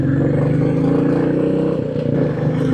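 A motorcycle rides along a city road, its engine chugging in a steady, close, low rumble with a slight dip in the middle.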